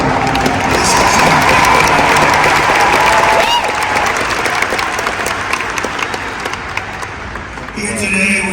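A large crowd applauds at Charlie Kirk's memorial event: dense, sustained clapping and cheering fill most of the stretch, easing slightly toward the end before swelling again, with voices mixed into the roar.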